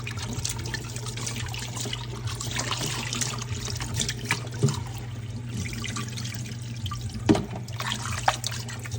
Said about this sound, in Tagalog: hugasan natin ng mabuti yung breast chicken hanggang sa matanggal yung natirang dugo-dugo. Hanggang sa luminaw yung tubig.